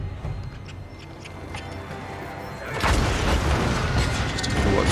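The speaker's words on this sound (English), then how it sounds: "we do have slightly ineffectual mortar barrage there" In a naval video game, a mortar barrage booms as a low rumbling roar that swells midway and holds steady, with faint ticking mechanisms underneath and no talking.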